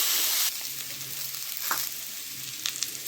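Potatoes frying in a pan during home cooking of a fish and bottle-gourd-greens dish, a steady soft sizzle with a few faint stirring clinks, no talk.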